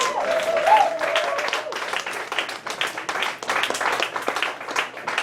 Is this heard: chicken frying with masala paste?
no